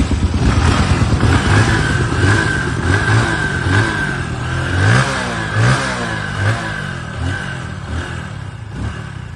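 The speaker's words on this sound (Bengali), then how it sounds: "একটু গাড়ির ইঞ্জিন সাউন্ডটা শুনে নাও" A used motorcycle engine idles and revs in a series of throaty bursts, loud and close, with a steady mechanical clatter underneath and no voices.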